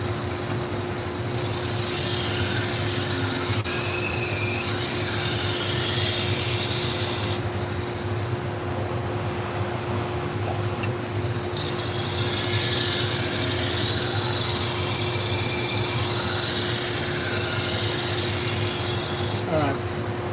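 Knife blade being sharpened, a long steady rasping rub against the stone in two extended strokes separated by a pause, close and fairly quiet with no talk.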